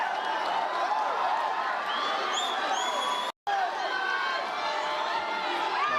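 Loud, continuous roar of a football stadium crowd cheering just after a goal, a dense wash of voices with whistles, holding steady for several seconds apart from a brief cut.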